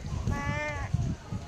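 A small child imitates a cow mooing with a short, wavering bleat-like "maa" lasting under a second, amid faint background noise.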